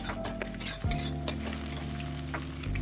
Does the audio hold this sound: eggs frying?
yes